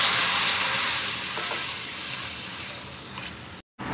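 Cooled boiled milk, a litre, pours into a pan of roasted makhana, producing a loud hissing sizzle that eases gradually, broken by a brief silence near the end.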